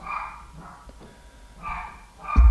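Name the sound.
dog barking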